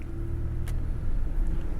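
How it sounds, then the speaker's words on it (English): A car follows close behind on a road in Maine, its engine giving a steady low rumble throughout, heard from inside another vehicle with a faint click partway through. "Car behind us."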